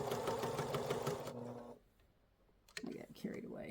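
Sewing machine stitching quilt binding on light-colored fabric, a steady rapid mechanical whir lasting over a second, then a brief pause before another short burst of stitching with light handling noise.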